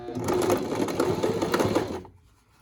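Sewing machine stitching a washable fabric pandemic mask, a close, fast, steady mechanical whir for about two seconds that then stops abruptly.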